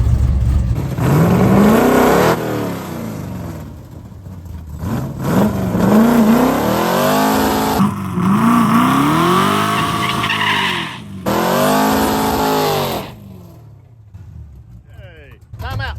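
A Plymouth 'Cuda drag car on slicks with a new clutch revs hard and accelerates in loud, repeated bursts, engine pitch climbing and falling between pulls, with tires squealing and people talking in between.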